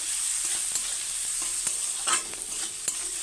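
Ground coriander, chili powder and salt fry in a hot pan, with a soft steady sizzle broken by several sharp scraping stirs of a spatula, heard up close and without talk.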